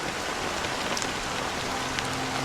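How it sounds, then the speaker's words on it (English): Steady rain pours in the video game Honkai Star Rail, a dense, even hiss of drops falling on surfaces with a few brighter patters, loud and continuous with no speech. "But it's still raining."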